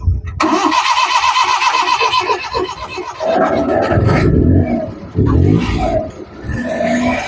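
A cold Suzuki Multicab engine cranks and fires up with a rough roar, then settles into an uneven, revving idle, loud and close.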